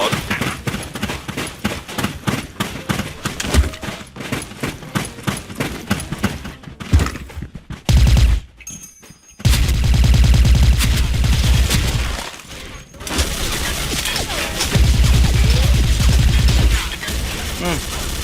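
M4A1 rifle with ACOG scope and silencer in Special Force 2, firing rapid bursts of loud, dense shots in quick succession, with pauses and denser sustained game noise in the second half.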